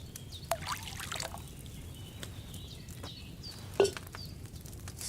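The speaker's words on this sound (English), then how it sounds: "you have to pour the right base into the cauldron" Wine pours into a cauldron in the medieval video game Kingdom Come Deliverance 2, a soft trickling pour against quiet background ambience, with a couple of brief clinks and no speech.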